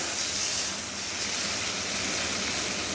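Water poured into a hot pan of fish curry with green mango and mourola fish, giving a loud, steady, close hiss of steam and spray that holds for a few seconds.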